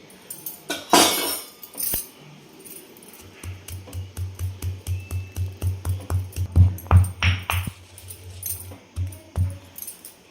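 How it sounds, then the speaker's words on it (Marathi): Mustard seeds and cumin crushed in a stone mortar with a pestle make a steady run of dull, rhythmic pounding thuds close by, with faint clinks mixed in. "हे दोन्ही आपल्याला खलबत्त्यामध्ये छान असं कुटून घ्यायचं"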